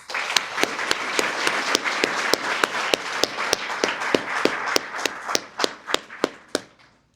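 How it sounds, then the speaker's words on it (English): An audience at a paramedic graduation ceremony claps for the lab aides, a steady run of sharp, distinct claps that thin out toward the end, close and fairly loud. "Let's give them a round of applause."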